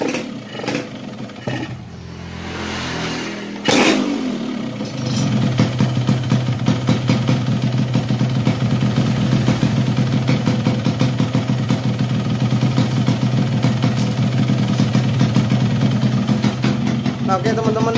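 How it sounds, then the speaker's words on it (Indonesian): A restored 1990 Yamaha RX King two-stroke motorcycle engine is kicked over a few times, catches and settles into a loud, steady, buzzing idle up close, with brief speech near the start. "di sini untuk motornya sudah dalam keadaan hidup"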